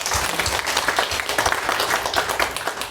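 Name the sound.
congregation applause in church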